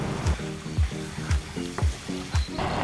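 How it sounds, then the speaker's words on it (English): Ground beef simmers in a pan for Japanese korokke croquette filling, a steady close sizzle broken every half second or so by a spoon scraping and stirring through the mixture, with no voices. "I just want to let this simmer away a little bit"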